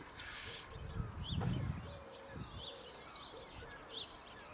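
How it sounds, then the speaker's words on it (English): Busy chirping and chattering of house sparrows in the background of an outdoor scene, with a soft coo and low rumble mixed in. "House sparrows chattering around in the background."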